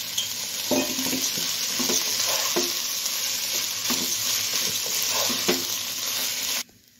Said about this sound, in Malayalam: നമുക്കിത് ചെറുതായിട്ടൊന്ന് ഫ്രൈ ചെയ്തെടുക്കണം